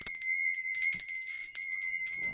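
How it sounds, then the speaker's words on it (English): Bright metallic bells ringing repeatedly with sustained high tones, several strikes overlapping in an irregular rhythm, clear and close. "you don't like the sound of bells."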